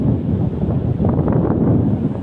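Strong habagat wind blows hard across the sea off a Philippine shore, a loud continuous low roar of gusts battering the microphone, with a faint wash of water beneath and no voices.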